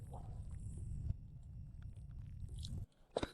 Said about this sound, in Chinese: 张嘴，嚼，